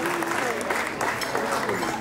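Wedding guests applaud together at a reception, a steady wash of clapping across the whole stretch while a voice talks over it.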